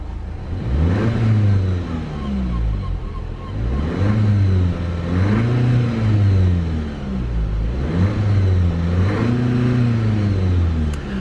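A 2019 Audi TT 2.0 TFSI 40 Black Edition four-cylinder idling, then blipped several times toward its limiter just under 4,000 RPM, each rev rising and falling in pitch; loud and close with no talking.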